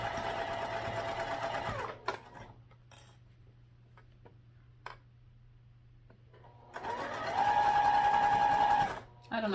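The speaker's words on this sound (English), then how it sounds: "I'll pull this as I sew" A sewing machine stitching netting onto a backpack, running steadily at the start, then stopping for a stretch of quiet handling clicks before starting again. A person speaks briefly.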